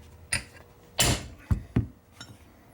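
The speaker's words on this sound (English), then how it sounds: "use a bigger hammer maybe" Several sharp metallic hammer blows on a cracked part during an M5OD-R2 five-speed transmission rebuild, about five irregularly spaced strikes ringing on metal, fairly close, with quiet pauses between.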